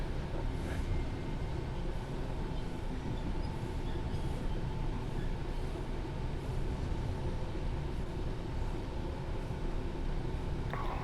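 AI commuter trains roll past on the London Commuter route in Train Sim World 3, a continuous dense rumble of wheels and carriages that stays loud and steady throughout, with no voices.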